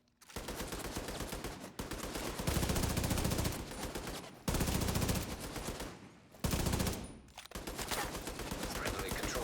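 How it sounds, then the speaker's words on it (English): Light machine gun fire in The Division 2, long sustained automatic bursts of rapid shots broken by short pauses, loud and close with faint game effects between volleys. "Sounds like he's got an LMG"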